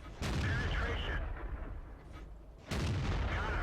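A tank cannon fires in World of Tanks, a sharp heavy boom at the start that rolls off, followed by a second loud shot near the end.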